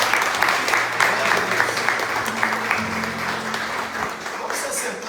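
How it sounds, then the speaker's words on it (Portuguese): A church congregation applauds, dense clapping that holds steady throughout with a faint sustained tone and some voices underneath. "Você pode dar um aplauso para Jesus?"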